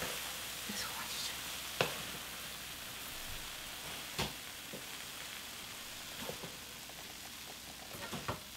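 Dried radish greens (siraegi) sizzle and crackle as they are stir-fried in a pan, a steady frying hiss with occasional sharper clicks of a utensil against the pan.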